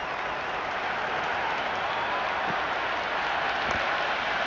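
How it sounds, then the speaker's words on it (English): Stadium crowd in the cricket video game Cricket 26 roars with a steady, dense wash of cheering and applause, sustained and loud throughout with no break. "There is an almost tangible fervour throughout the crowd at the moment."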